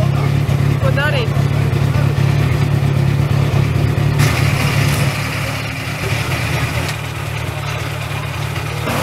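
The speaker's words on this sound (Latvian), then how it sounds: "Nejaudā motors." A car engine idles and revs while running short of power, a steady loud drone with a low hum that thins out partway through, with speech audible over it.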